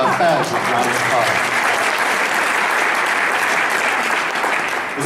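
A conference crowd at a land trust gathering breaks into a full round of applause, dense and even clapping filling the room steadily for the whole stretch.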